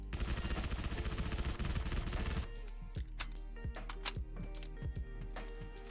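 An SMG with Halo-style sounds in Fallout 4 fires a rapid, loud automatic burst for over two seconds. It is followed by several sharp single clicks and mechanical reload clacks.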